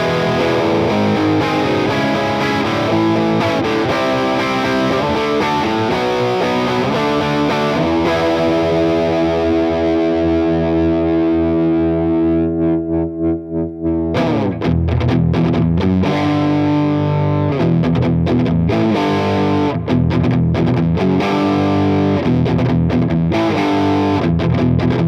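An electric guitar plays through a Blue Note Select overdrive pedal set to full gain in hot mode, producing loud, saturated distorted chords and riffs, with a held ringing chord fading before the playing resumes, no talking.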